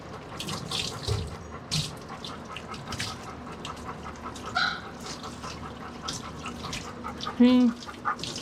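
Water running from a hose or tap onto a Bernese Mountain Dog being rinsed during grooming, a continuous splashing hiss with brief bursts and clinks, under faint background voices.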